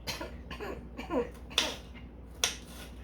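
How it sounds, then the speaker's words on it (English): A couple of short, sharp coughs break through a quiet room with faint background hum, spaced about a second apart. "See, I'm gonna cough in a minute."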